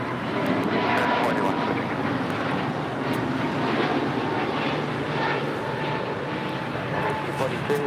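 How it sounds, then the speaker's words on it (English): An American Airlines Airbus A321neo takes off from LAX for Philadelphia, giving a loud, sustained jet-engine roar close by with a hissing edge, and faint voices mixed in beneath it. "This is American Airlines 481 taking off to Philadelphia on an A321neo."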